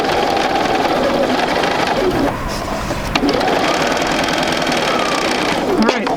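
A sewing machine runs in rapid, steady bursts while sewing quilt squares, close and busy, with a voice talking over it.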